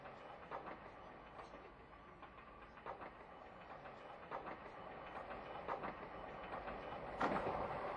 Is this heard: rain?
no